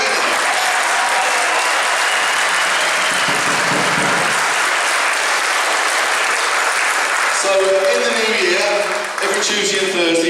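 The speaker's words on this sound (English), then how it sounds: "Well, round of applause, come on." A Christmas concert audience breaks into loud, sustained applause, a dense wash of clapping with some voices and cheering near the end.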